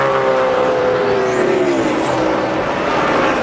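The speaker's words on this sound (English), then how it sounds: "Bill Elliott's going to make just one more lap to pick up the victory in the Pennsylvania 500" A NASCAR Winston Cup race car on its final lap at Pocono in the 2002 Pennsylvania 500, with a loud, steady engine roar whose pitch sweeps as the car passes close by.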